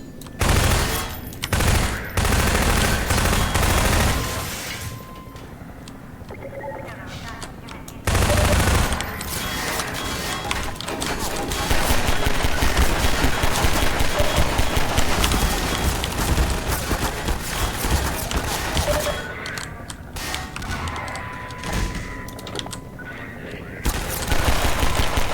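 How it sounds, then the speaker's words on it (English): Dense, continuous Half-Life 2 video game gunfire rattles loud and near for the whole stretch, with bursts of shots layered over heavy in-game action noise and brief lulls. "Who is shooting at me"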